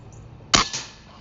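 A single shot from a Kral Empire XS .22 air rifle, a sharp close crack followed by a brief fainter pellet impact a moment later.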